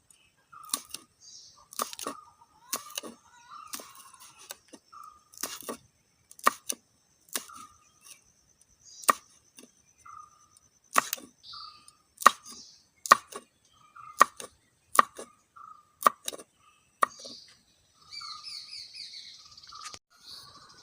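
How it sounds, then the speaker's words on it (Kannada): Knife chops green chilli on a board in a home kitchen, a steady series of sharp, close taps with brief pauses, while birds chirp faintly in the background and no one speaks. "ಇವಾಗ ಇದಕ್ಕೆ ಒಂದು ಹಸಿಮೆಣಸಿನಕಾಯಿಯನ್ನು ನಾನು ಕಟ್ ಮಾಡಿ ಹಾಕಲ್ತಿದ್ದೇನೆ."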